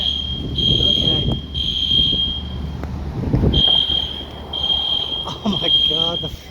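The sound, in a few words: fire alarm sounding during HVAC smoke test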